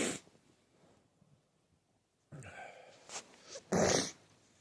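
Two three-year-old dogs, an Australian Shepherd Husky mix and a German Shepherd Black Lab mix, give a short snort, then after a quiet pause a few close, rough growling and snorting bursts, the last one loudest.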